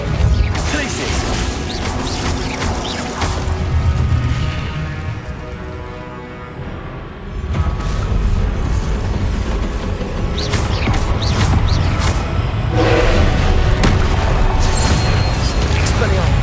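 Spell impacts and explosions from Hogwarts Legacy combat, a dense, continuous barrage of crashes, whacks and booms with whooshing casts, loud and busy throughout, with shouted incantation voices mixed in.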